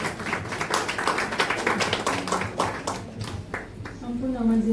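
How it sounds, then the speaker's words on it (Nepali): An audience claps in welcome as a speaker comes forward, a ragged run of hand claps mixed with taps, while a voice talks over it and the clapping thins out toward the end. "स्वागत गरौँ ताली बजाएर है"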